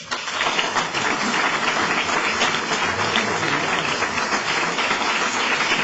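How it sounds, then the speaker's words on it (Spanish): An audience at a tribute event gives a documentary's director a round of applause, a thick, even roar of many hands clapping that holds steady and fills the whole stretch without pause. "me gustaría que entre todos le diéramos un aplauso"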